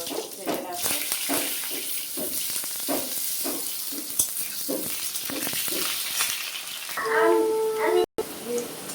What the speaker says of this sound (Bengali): আলুগুলো হালকা ভাজা ভাজা হয়ে গেছে